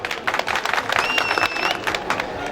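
Crowd at a Turkish wrestling event in Edirne applauds steadily, dense clapping with a faint whistle-like tone, while an announcer's voice carries over the noise.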